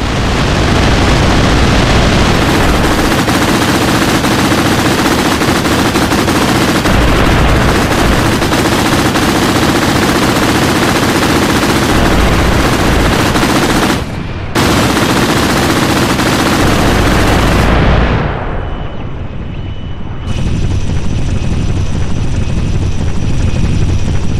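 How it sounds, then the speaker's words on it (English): A roaring Falcon aircraft engine in the video game Arma Reforger, with Halo mods, drones loudly alongside rapid bursts of heavy gunfire, cutting out briefly before the engine winds down and fades. "here's a little bit of the Falcon sound effect"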